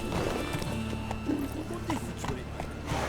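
The horse Roach galloping in The Witcher 3, a steady rhythmic hoofbeat running close and continuous beneath a voice.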